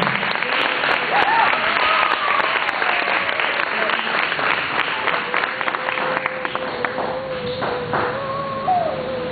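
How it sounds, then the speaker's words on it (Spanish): A church congregation applauds loudly and continuously during a worship service, a dense wash of clapping close by, with voices and a sustained tone running beneath it. "Dale un fuerte aplauso en alabanza."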